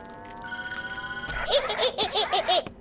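A telephone rings inside the horror video game Tattletail, as a few repeated electronic bell bursts, fairly loud and close, following a sustained tonal chime, with no talk over it.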